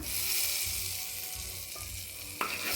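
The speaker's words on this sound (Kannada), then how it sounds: "ಮೊಟ್ಟೆಯನ್ನು ಕಟ್ ಮಾಡಿ ಈ ಥರ ಹಾಕಿಬಿಟ್ಟು ನಾವು ಫ್ರೈ ಮಾಡ್ಕೋಬೇಕು" Egg pieces fry in oil with chilli and masala powder in a pan, making a loud, continuous close sizzle with a few stirring scrapes and clinks, and a sharp knock near the end.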